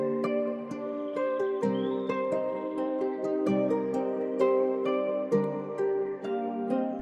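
A melodic guitar-flute sample for a trap beat, pitched down two semitones, plays a continuous mid-range phrase of sustained notes and plucked attacks without drums.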